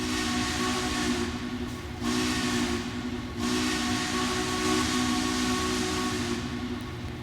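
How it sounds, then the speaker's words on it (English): Steam whistle of a UP 844 locomotive in the Trainz game, long loud sustained chime blasts with two brief breaks between them, accompanied by a hissing background and no voices. "Pretty good whistle, I'd say."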